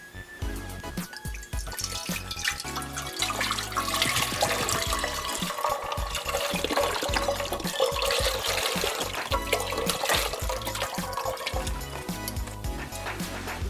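Liquid stock, 32 ounces for a vegetarian keto soup, pours steadily into a pot, a continuous splashing, gurgling stream that runs unbroken for over ten seconds at close range with no talk.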